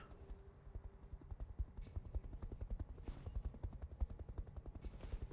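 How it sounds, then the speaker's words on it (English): Helicopter in the video game RogueTech, a rapid rhythmic rotor thumping, quiet but steady throughout with brief whooshing swells and no talking. "We'll see what this helicopter decides to do."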